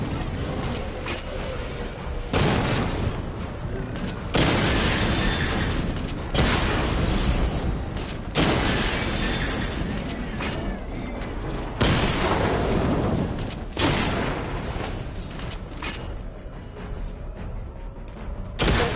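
Missile barrage explosions in a Batman video game, a run of loud deep booms and bursts arriving in repeated waves every few seconds, dense and rumbling with short quieter gaps between.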